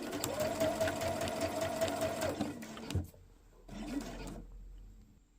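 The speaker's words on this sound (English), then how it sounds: "I'm just going to stitch down that side as well" A sewing machine stitches down one side of a quilt beside a strip of half-inch masking tape, running steadily for about two and a half seconds, then stopping, then giving a short second burst before falling quiet.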